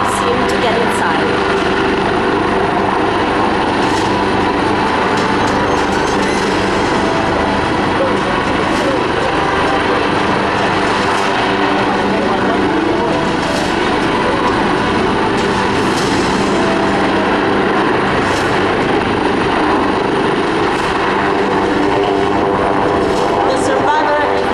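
An Italian Air Force Agusta HH-139B helicopter hovers during a hoist rescue demonstration at an air show, its rotor and turbine roar loud, continuous and close for the whole stretch, with a voice talking over it.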